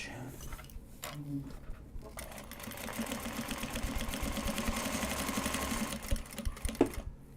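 A sewing machine stitches Japanese fabric card holders, a close, steady rapid chatter of the needle that builds after a brief pause and ends in a few sharp clicks.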